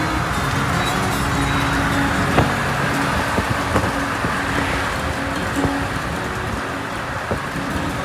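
A Ford F100 pickup cruises down the road at around 50 mph, with steady engine drone, tire roar and wind rush filling the cab continuously.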